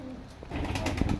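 A Teddy pigeon cooing, a short soft throaty coo in a brief burst close to the microphone, with no talk.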